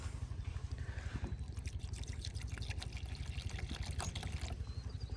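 Water is poured out for a dog outdoors, a faint, steady splashing trickle with a low background rumble and a few light knocks.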